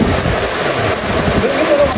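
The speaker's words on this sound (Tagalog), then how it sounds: "Grabe po, lakas ng ulan." Heavy rain pours down outdoors in a dense, continuous loud hiss that stays steady with no break.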